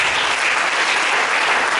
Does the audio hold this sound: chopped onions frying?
no